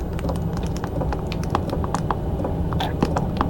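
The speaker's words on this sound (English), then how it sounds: "There's a little bit of knocking." Hcalory TB Max diesel heater starting up, giving off rapid, irregular light knocks and ticks close by, layered over a low steady hum.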